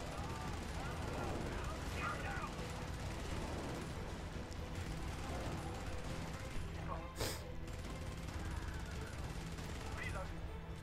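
Automatic turret firing in the Helldivers video game, rapid bursts of gunfire with explosions mixed into dense game noise and music, while a player talks over it.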